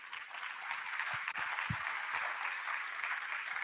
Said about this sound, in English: may we please have a big round of applause, everyone, for Gerd Müller